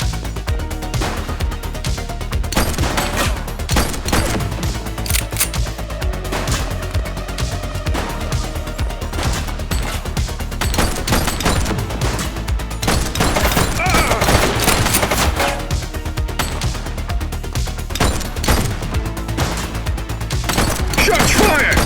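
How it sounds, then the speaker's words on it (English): Continuous gunfire in the police game The Precinct, with dense overlapping shots and automatic bursts plus occasional thuds, loud and unbroken, mixed with shouted voices throughout. "Shots fired!"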